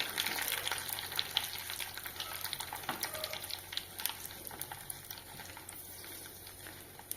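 Steady crackling and spattering of mustard seeds, curry leaves and dried red chillies frying in hot oil, continuous and close, with no voices.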